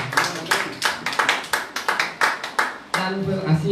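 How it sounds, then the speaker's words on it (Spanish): A church congregation claps in a rhythmic beat, about a dozen loud, evenly spaced claps in quick succession, with a voice speaking over the end. "Dale un fuerte aplauso"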